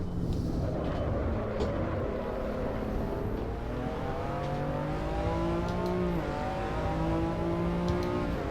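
Ferrari engine in the Assetto Corsa racing game, revving steadily with rising and falling pitch as gears shift, loud and continuous with no talk over it.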